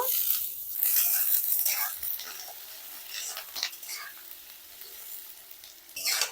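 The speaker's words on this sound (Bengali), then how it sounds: "তেল গরম হয়ে গেছে তেলের মধ্যে আলু দিয়ে দেব" Potato pieces fry in hot mustard oil in a home kitchen, giving a steady, bright sizzle that runs the whole time with small crackles and stirring noises, loudest at the start and again at the end.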